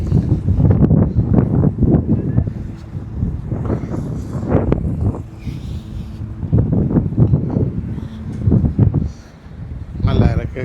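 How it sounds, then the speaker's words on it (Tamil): Wind blows across Prince Edward Island in Canada, buffeting the microphone in rumbling gusts that rise and fall under someone talking throughout. "நல்லா இருக்குது, காற்று வீசுது ஐலண்டோடைய"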